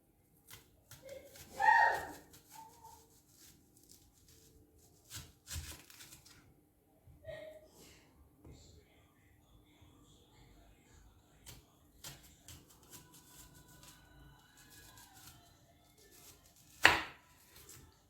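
An onion is sliced into rings with a knife on a cutting board, making sparse, irregular chopping taps spread across the stretch, with a louder cut near the start and another near the end; someone talks quietly at moments.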